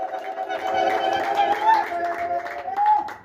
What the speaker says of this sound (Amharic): አይገባም ለእግዚአብሔር ጭብጨባ ከዚህ በላይ